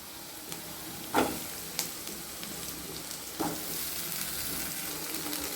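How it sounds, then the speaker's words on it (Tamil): Diced potatoes sauté in oil in a pan with a steady close-up sizzle, broken by a few sharp scraping stirs from a spoon. "உருளைக்கிழங்கு கொஞ்சம் நல்லா வதங்கட்டும்"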